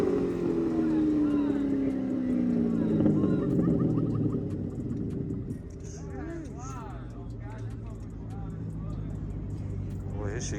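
A car engine revs cold at a car meet, a rising, whining drone that sweeps up and then settles into a steady rumble, fairly loud, with some voices chatting in the background.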